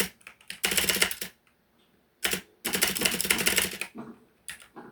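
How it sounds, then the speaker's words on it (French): A noisy computer keyboard space bar clacks in quick bursts of loud, close key strikes, with a pause of near silence between two flurries of typing. "En fait, c'est la touche espace qui fait ce bruit."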